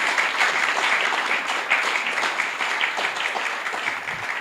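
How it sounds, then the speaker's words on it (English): Warm audience applause for a speaker at a talk, steady dense clapping from a crowd at moderate loudness, continuing for a few seconds. "So if you could, a warm round of applause for Glenn Loughrey."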